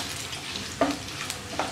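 Cumin seeds sputter and crackle in hot ghee in a pan, a quiet steady sizzle with a few sharper pops standing out, no voices.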